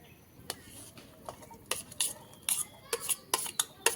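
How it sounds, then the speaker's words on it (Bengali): Chopped onion, tomato and coriander go into a pan and are stirred, with a spoon clinking and scraping against the metal in quick, irregular taps, close by and fairly quiet. "পেঁয়াজ দিয়ে দিলাম, টমেটো, ধনেপাতা,"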